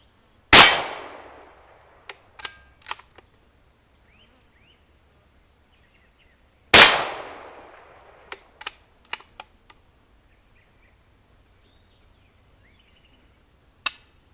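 Two sharp, loud shots from a Marlin XT22M .22 rifle crack several seconds apart, each followed by a string of smaller metallic clicks and clacks from the action being worked, alone with no talk.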